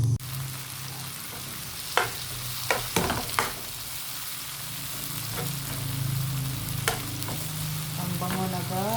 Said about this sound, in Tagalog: Guys, iprito natin to ulit.